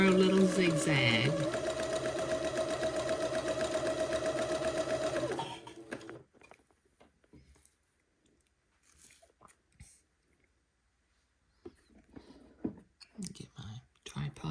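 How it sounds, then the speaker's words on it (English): A sewing machine runs a narrow zigzag stitch along the header of lace, its fast steady whir loud and close for about five seconds before stopping, followed by quiet handling noises and brief soft speech. "I'm just catching both sides of the header of the lace with that narrow little zigzag."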